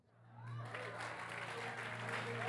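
A church congregation breaks into clapping during a sermon, the applause swelling from quiet to a dense, sustained patter over a low steady hum.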